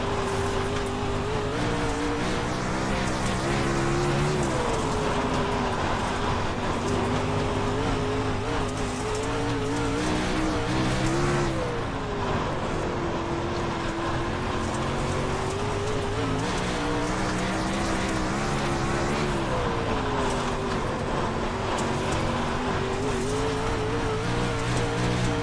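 Race car engine in a racing video game whining steadily near and loud, with pitch dips as the front end skips over a track bump coming out of turn two, tire scrub under the engine, no talk.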